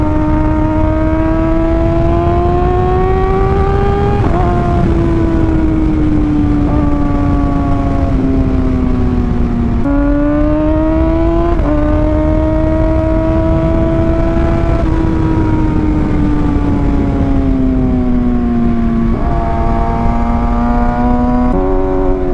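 A motorcycle ridden at roughly 80 to 100 km/h: a loud, steady engine drone with rising and falling pitch as it shifts and changes speed, close and continuous throughout with no talk.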